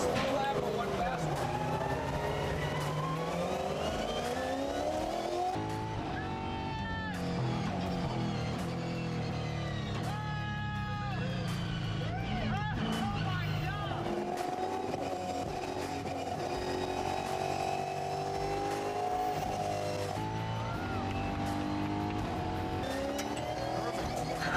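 A Ford Mustang Australian supercar laps a race track, its engine pitch sweeping up and down through gear changes, with tire noise and commentators talking over the continuous roar.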